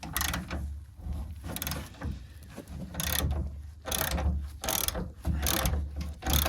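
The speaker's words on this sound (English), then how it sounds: "that feels like the captive nut inside is actually spinning" Repeated ratcheting clicks in bursts with short pauses, a metallic grinding whir as a captive nut spins freely inside a classic Mini under a wrench, close up.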